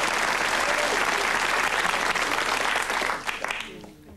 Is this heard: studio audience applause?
yes